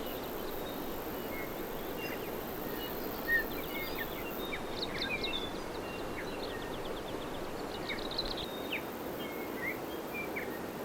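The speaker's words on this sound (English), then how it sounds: "I can hear so many different birds calling." Many different birds call in a forest, scattered high chirps and short trills at a distance over a soft, steady background hush.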